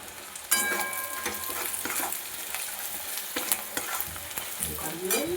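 Spice paste of cumin, Kashmiri chilli powder and green chillies sizzles and fries in a pan for mutton curry while being stirred, with steady crackling and scraping spatula strokes, no voices.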